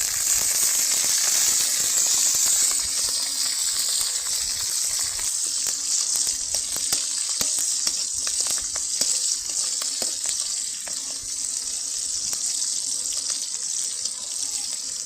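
Chopped onion, green chili, bay leaf, cardamom and cinnamon hit hot oil together for a masoor dal dish and fry with a loud, steady hiss. The sizzle carries evenly throughout, close and unbroken.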